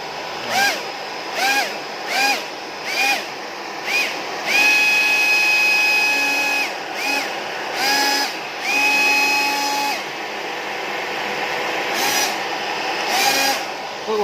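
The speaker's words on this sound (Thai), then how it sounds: "พัดลมข้างหลังก็จะทำงานนะครับเสียงดังนิดนึงนะ" A small 1/8-scale RC hovercraft's rear fan spins up in a series of short whining bursts, then holds a longer steady electric whine, close and moderately loud, with brief pauses between runs.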